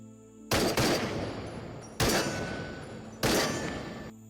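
Three heavy semi-automatic sniper rifle shots in the game Into The Radius, each a sharp loud crack with a long decaying echo, spaced about a second and a half apart with nothing else heard.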